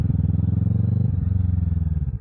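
A motorcycle runs close by with a loud, rumbling, rhythmically pulsing engine note that holds steady, briefly shifts, then eases slightly toward the end.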